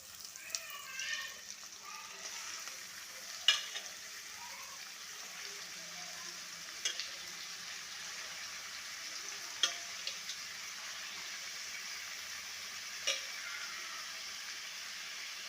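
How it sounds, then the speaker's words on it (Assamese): Goat meat frying in oil with garlic gives a faint, steady sizzle, with occasional clicks and brief stirring knocks over a low kitchen background. "কটা ছাগলীৰ মাংসত অলপ তেল ৰহুন বেছিকৈ দিব লাগে। এতিয়া মই মাংসখিনি দি দিম ইয়াত ঘৰত।"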